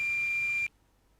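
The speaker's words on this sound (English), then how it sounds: "Using a multimeter set to continuity, we'll make sure that a good contact was achieved between the two jumped screw terminals." A single steady, high electronic beep from a multimeter in continuity mode, testing a wire jumper between two screw terminals on a power supply board, holding for under a second before cutting off abruptly.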